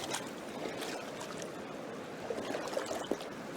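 A knee-deep river flowing past an aspen grove in wilderness, a steady rushing wash of water with faint trickling splashes, moderately close and without voices.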